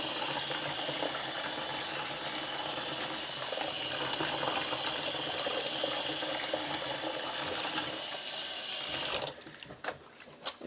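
Running tap water pours steadily over dyed yarn being rinsed in a sink, a continuous close splashing rush that cuts off near the end, leaving a few drips and faint handling sounds.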